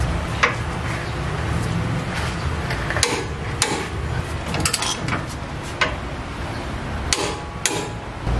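Tightening a stabilizer link bolt to 60 foot-pounds on a Nissan Navara NP300 suspension, close metallic ratcheting clicks and sharp taps over a constant noisy background, uneven in rhythm.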